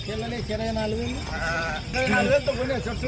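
Sheep bleat repeatedly at the Gudur sheep market, with several wavering cries close by over a busy background of people talking.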